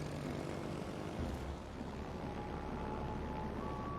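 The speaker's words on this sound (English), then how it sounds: "So I get my torpedo bombers up" Steady propeller engine drone of carrier-launched torpedo bombers in World of Warships Legends, a continuous mid-loud hum with a faint whine rising near the end, no talk over it.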